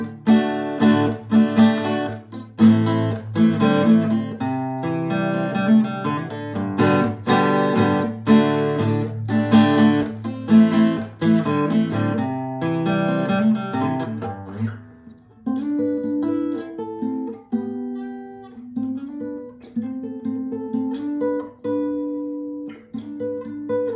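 An acoustic guitar plays a song, strummed chords giving way to a sparser picked melody, close and steady with no voice over it.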